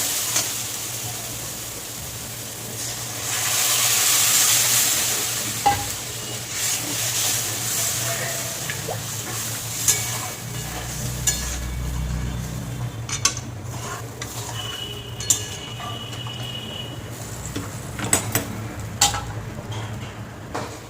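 Water is poured into a spice paste frying in a pan for stuffed pointed gourd curry, set off by a loud hiss and sizzle, followed by clinking ladle stirs and scraping against the pot.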